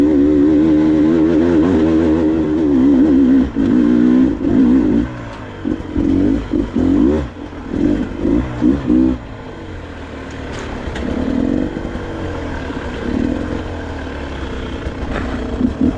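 A 2023 Beta 300RR Race Edition two-stroke dirt bike is ridden on a trail, its engine loud and close, revving up and down in bursts and rising and falling with the throttle, then easing to a lower steady drone.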